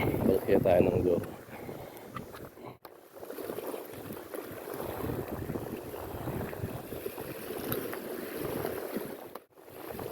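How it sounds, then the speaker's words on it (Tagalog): Strong wind buffets the microphone on a boat at sea during fishing at high tide off a sandbar island beach in Concepcion, Iloilo, a steady rushing roar with gusts and water noise, heard close and loud throughout. "Tsaka medyo malakas yung hangin."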